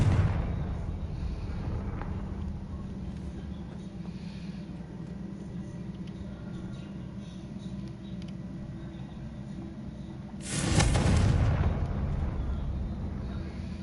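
A Confringo spell blast in Hogwarts Legacy, a sudden loud booming burst late in the sequence that rises over a low rumbling game backdrop and then fades out.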